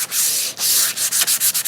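Fine sandpaper rubbed by hand along the grain of a varnished solid-wood tray, giving close, dry scratchy strokes that start long and then quicken into short rhythmic passes, with no voices.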